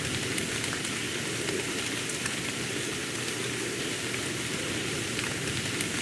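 Steady rain at night in the video game The Moon Silver, a dense, even patter of drops on surfaces holding at constant loudness throughout, with no voices.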